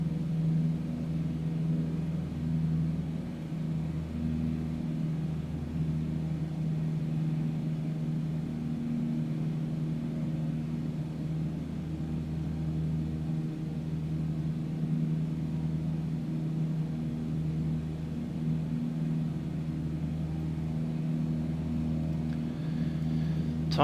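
A Cessna 152 single-engine light aircraft in Microsoft Flight Simulator drones steadily at reduced RPM, a constant mid-pitched hum with a low pulsing throb, moderately loud and unchanging throughout.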